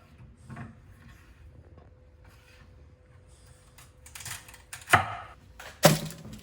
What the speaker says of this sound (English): So we start off by chopping both ends off.